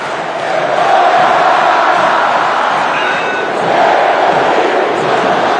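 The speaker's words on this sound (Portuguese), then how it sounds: "Vamos ouvir a vaia?" Large crowd of Flamengo football fans booing in a stadium, a loud, sustained roar of jeers that swells slightly midway and carries on steadily without a break.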